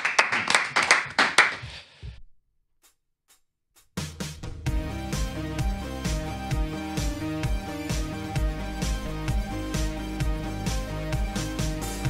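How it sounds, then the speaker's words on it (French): A burst of clapping and applause on a radio show for about two seconds, then near silence, before steady music with a beat starts and carries on. "applaudissements de confiance"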